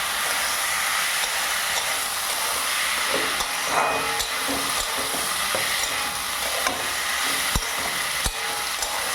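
Rice coated in a ground paste of ginger, coriander and cumin is stirred and fried for a fish-head muri ghonto, giving continuous sizzling with scraping strokes and occasional knocks against the pan.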